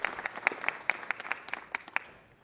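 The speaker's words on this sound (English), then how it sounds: "applause" Scattered, fairly faint applause from a small group at a city council meeting, individual claps distinct and spaced, fading toward the end.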